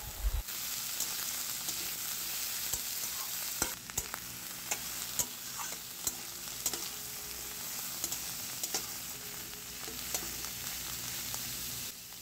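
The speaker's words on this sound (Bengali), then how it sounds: "সব সবজিগুলো এবার ভালো করে ভেজে নেওয়া হবে।" Chopped carrot, cauliflower, long beans and seeded pointed gourd fry in hot oil with a constant close sizzle, punctuated by irregular scraping and stirring clicks of a spoon in the pan.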